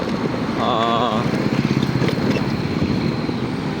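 Viar Q1 electric motorcycle riding in heavy traffic, with steady road and wind rumble throughout and a brief warbling tone near the start.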